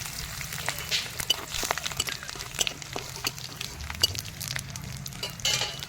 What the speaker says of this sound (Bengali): আমি এবারে ফোড়ন দেব তেজপাতা কাঁচা লঙ্কা দুটো শুকনো লঙ্কা আর চারটে এলাচ আর জিরে